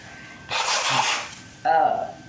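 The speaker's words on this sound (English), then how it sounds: "I'm about to blow my nose on camera." Two forceful blows of a nose, a long breathy honk followed by a shorter, wetter one, close by with no talking.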